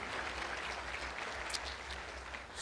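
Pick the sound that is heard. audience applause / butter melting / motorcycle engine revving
audience applause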